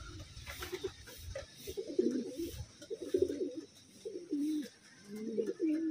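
A plump, tame pigeon hen coos in soft, low, rolling phrases repeated several times, close by against a faint outdoor background.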